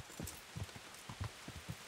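Rain falling in the medieval video game Kingdom Come: Deliverance, a soft, steady hiss at low volume with faint, evenly spaced low thumps underneath and no talk.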